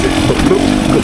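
KTM 300 XCW two-stroke dirt bike from 2024 held at full throttle, its engine droning loud and steady with a buzzy, slightly fluctuating note for about a second.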